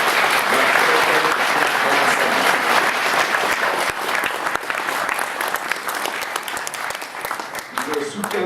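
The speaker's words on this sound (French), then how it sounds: "j'aimerais vraiment qu'on les applaudisse" Sustained applause from a crowd, dense clapping that stays loud throughout and thins slightly near the end.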